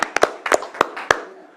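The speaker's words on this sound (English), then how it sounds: "I'll give you a round of applause." A few people clap briefly at a county board of supervisors meeting, with sparse, scattered hand claps in a quiet room that fade quickly.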